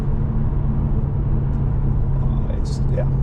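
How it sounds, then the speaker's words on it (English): MG X-Power SV V8 engine while driving on a road trip in France: a steady, loud, low rumbling drone heard from inside the car, with faint higher noises near the end. "with that woofly V8 noise"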